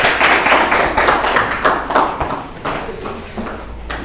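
A school class applauds a student group in an economics lesson, giving a dense, continuous patter of many hands clapping close by for several seconds, with no voices over it.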